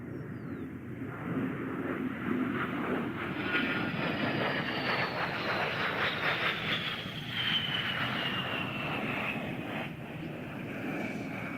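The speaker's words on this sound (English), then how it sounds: "Major Johnson is now executing a classic aerobatic maneuver, the Cuban 8" An A-10 Warthog jet flies an aerobatic demonstration at the 2024 Tampa Bay airfest, its engine roar sustained and loud throughout, with a slowly shifting whine as the aircraft passes.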